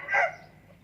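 A Burmese fighting rooster gives a single short crow, fairly close and moderately loud, fading into quiet background noise.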